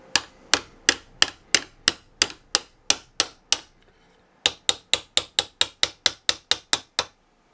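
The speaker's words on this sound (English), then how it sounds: "Now I'm just gonna tap it slightly." A CV joint is tapped into place with a hammer in a run of sharp metallic strikes, about a dozen evenly spaced hits, then a short pause and another quicker burst of taps, close and clear with no talking.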